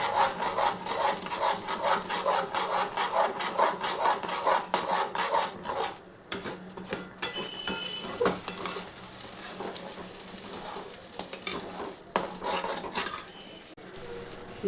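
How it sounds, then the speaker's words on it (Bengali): Jackfruit seed mash is stirred and scraped in a pan until dry, giving a continuous close rasping rub with rhythmic strokes and a faint sizzle underneath. "এরমভাবে এটাকে নেড়ে যেতে হবে যতক্ষণ না এটা ভালো করে শুকনো হয়ে যায়"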